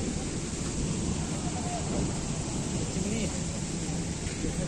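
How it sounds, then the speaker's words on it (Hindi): Water pours down inside a power plant cooling tower at a thermal station, a steady, loud rushing roar filling the whole stretch without pause. "देखिए यहाँ पानी गिर रहा है और यहाँ पे ठंडा होता है"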